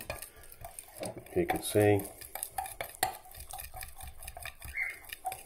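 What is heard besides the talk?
stirring colour drops into soft plastic lure mixture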